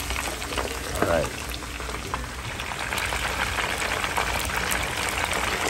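Tilapia frying in hot oil, giving a steady, moderately close sizzle and crackle with faint talk in the background.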